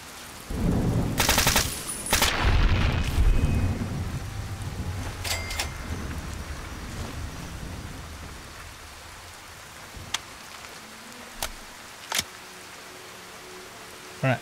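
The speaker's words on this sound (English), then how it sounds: "This rain kind of sucks, man." A heavy downpour in the Fallout wasteland starts with loud crashing thunder bursts, then settles into a steady hiss of rain broken by a few sharp isolated cracks.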